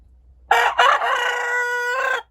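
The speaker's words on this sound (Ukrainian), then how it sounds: "О, старий півень співає." An old rooster crows once on a farm on an autumn morning, loud and close, a long harmonic call with a brief break near the start, over quiet background.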